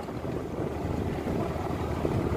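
A sailboat motor sailing on a hot day gives a continuous low engine drone mixed with wind rush and water wash, steady and close throughout.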